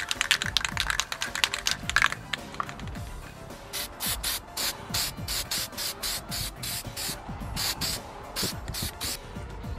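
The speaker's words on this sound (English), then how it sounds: "Now we're going to go ahead and spray it with the yellow." Short hissing bursts from a spray can applying yellow paint to a plastic replica pager, a rapid irregular series of close sprays followed by a steadier run of evenly spaced pulses, quiet and without talk.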